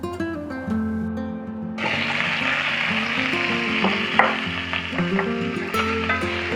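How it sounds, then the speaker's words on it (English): Pearl onions hit hot oil in a pan, and a loud, broad sizzle bursts up and holds steady, close and continuous, with a low background tone running underneath. "Now to the same pan, I'll add some oil and add the pearl onions."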